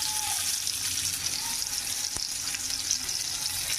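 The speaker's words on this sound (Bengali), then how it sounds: "তেলটা ভালো মতন গরম হয়ে গেছে। এবার করলাগুলোকে আস্তে আস্তে করে এইভাবে বসিয়ে দেবো।" Bitter gourd slices sizzle in hot oil in a pan, a steady close frying hiss without talk.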